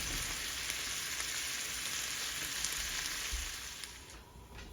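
Fiddleheads fry with garlic in a hot cast iron pan, giving a steady, dense sizzle that holds evenly throughout and thins slightly near the end.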